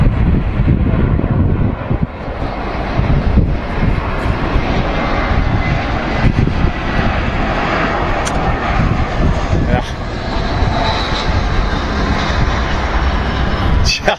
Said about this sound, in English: It's a landing aircraft, which you're getting confirmation for now from Rome,